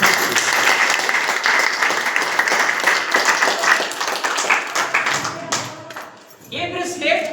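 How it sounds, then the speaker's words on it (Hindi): An audience applauds in a short burst at a talk on health, dense clapping held steady and near, then thinning toward the end as voices come through. "आपके लिए छोटा ताली है।"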